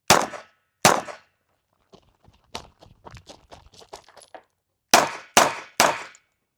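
Pistol gunshots at an outdoor range from an HK VP40 and a Springfield XD45: two sharp reports, a pause filled with scattered metallic clinks, then three more shots in quick succession, loud and close.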